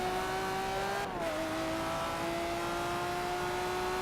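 A Lamborghini Aventador race car engine drones steadily in the Forza Motorsport 7 video game, holding a sustained tone that dips slightly in pitch as it shifts, with no talk.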